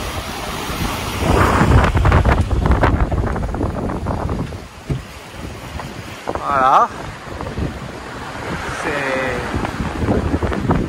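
Steady wind and rushing water from a sailboat sailing downwind, with a low hull rumble and someone speaking briefly over it.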